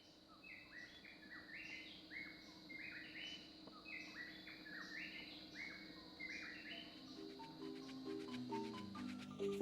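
Many birds sing at morning in Costa Rica, an overlapping chorus of repeated chirps and whistled phrases heard at moderate distance, with a low ambient hum underneath.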